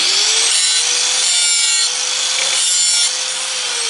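Steady, gritty abrasive grinding of an axe blade with a sanding disc, continuous and close, with a faint whine running underneath and no speech.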